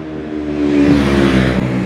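Loud motorcycle passing close on a congested busy road, the engine note rising and swelling as it draws near, a steady roaring whine dominating the traffic noise with no talk.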